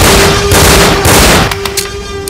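Rapid bursts of gunfire crack out loud and close in a dense automatic stream, briefly pausing before further scattered shots.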